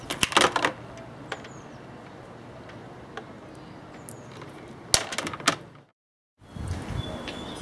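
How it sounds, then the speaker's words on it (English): Solar panel wire leads snipped to length with cutters, giving a few sharp clicks early and a cluster of crisp snaps near the middle, close and moderately loud over a quiet room. "I'll cut the wires to the right length"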